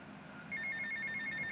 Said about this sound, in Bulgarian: Някой ми звъни.